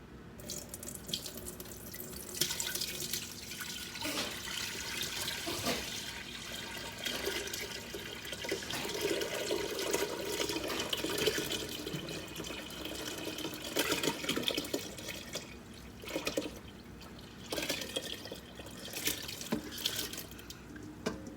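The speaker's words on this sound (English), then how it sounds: "So we're going to pour this mixture" Pickling mixture for watermelon rind pickles poured from a container into a pan, a continuous splashing liquid stream that swells and fades with the pour, fairly quiet and close, no voices.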